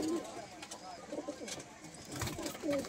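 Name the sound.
Madrasi pigeons cooing in a loft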